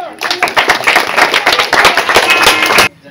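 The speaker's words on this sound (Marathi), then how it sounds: "विद्यार्थ्यांनी कृपया टाळ्या वाजवा." Students clap at a school farewell ceremony for Shailaja Dhondge in Kikwari, a close, loud, rapid patter of many hands that lasts under three seconds and then stops abruptly.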